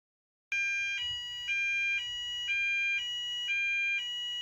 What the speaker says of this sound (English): We got woken up by the fire alarm again.